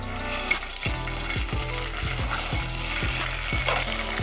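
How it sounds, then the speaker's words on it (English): Chili garlic sauce sizzles and crackles steadily in a hot pan, a loud continuous fry with a low rhythmic thumping pulse running underneath. "Now I'm gonna go ahead and add my chili garlic sauce"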